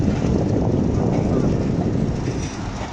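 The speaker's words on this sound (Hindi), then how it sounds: "पैरेलल एक्शन हो गया दोनों ट्रेन का" Pakistan Express and Millat Express trains run side by side near Lalamusa Junction, a loud, steady broadband rumble of wheels and carriages close at hand, with faint voices mixed into the din.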